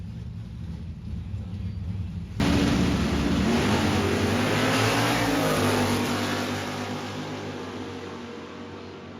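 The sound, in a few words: vintage Dodge Challenger accelerating in a drag race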